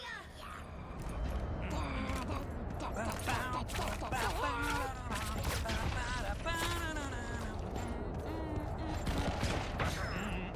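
Rapid gunfire and ability effects from a Marvel Rivals match crackle continuously through a busy game mix, with talk over it.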